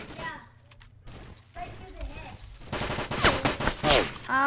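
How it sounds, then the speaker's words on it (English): Gunfire and bullets flying in the Roblox game Mad Paintball 2, scattered shots building toward a busier burst near the end, mixed with a player's voice talking over the action. "There is so much bullet flying through here."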